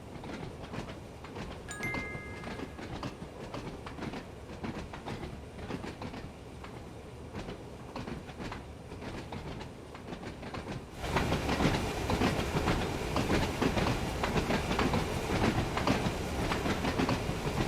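An old London tube train runs in the video game Train Sim World 2, giving a continuous rumble with rhythmic clickety-clack from the wheels. The noise grows suddenly louder partway through, as if windows open or the train picks up speed.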